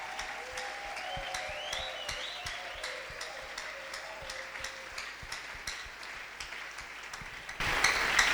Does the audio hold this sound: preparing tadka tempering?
no